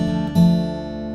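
Fingerstyle acoustic guitar playing the outro of the Harry Potter theme: two strings plucked together once, then left ringing and slowly fading.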